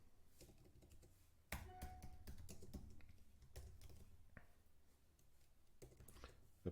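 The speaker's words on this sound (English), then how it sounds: "Apologies, my typing is terrible." Typing on a computer keyboard, a steady run of quick clicks and tapping keystrokes in bursts with brief pauses, close and fairly quiet, with no talk.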